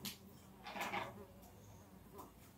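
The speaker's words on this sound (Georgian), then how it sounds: "ბუზი რო დაგტრიალებს თუ ხედავთ." A housefly buzzes faintly around an indoor room, its drone rising and fading as it circles close, over a quiet background with light rustling.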